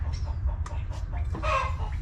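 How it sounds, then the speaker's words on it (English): Chickens cluck in short, scattered calls over a constant low background hum. "chickens are here"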